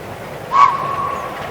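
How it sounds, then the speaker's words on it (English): A small steam train on a 2-foot gauge railway lets out a brief whistle-like tone that sustains for about a second over a low, steady rolling rumble, moderately close. "A little train of cocoa pans, its engine puffing mightily"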